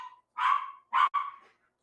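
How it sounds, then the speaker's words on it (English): A dog barks indoors at home, a few sharp barks in two quick bursts, fairly clear and close, with a short pause between them. "Is that your dog?"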